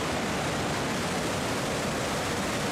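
A waterfall in a protected Icelandic nature reserve roars in a dense, unbroken wash of rushing water, loud and constant for nearly three seconds with no voices.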